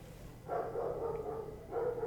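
A neighbour's dog barks in a few drawn-out, whiny bursts, faint and distant against a quiet background.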